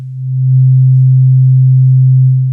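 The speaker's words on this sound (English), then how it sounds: "Now we have a sine wave generator at different hertz frequencies" A pure, steady low sine test tone from a signal generator hums continuously, fading in at the start and holding loud and unchanging, with nothing else heard.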